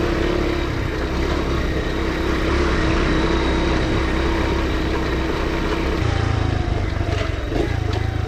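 A Honda CT motorcycle ridden along summer trails, its small engine droning steadily and close throughout with a shift in pitch and load partway through, wind noise over the top and no talking.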